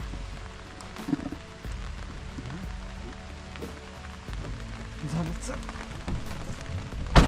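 Steady rain patters down during a jungle safari in Tadoba, with scattered drips and soft rustling, and faint voices murmur now and then beneath it.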